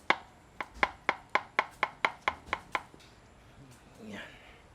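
Knife slicing through baked macaroni on a board, about a dozen crisp, evenly spaced chopping taps close up, followed by softer scraping and shuffling.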